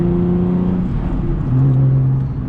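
A turbocharged Chevrolet Colorado pickup driving down the road after a clutch damper delete, with a loud steady engine drone and tone that shifts in pitch partway through.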